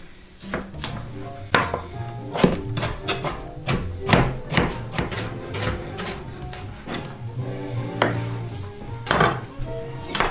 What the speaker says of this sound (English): cut them in quarters lengthwise, and then chop them up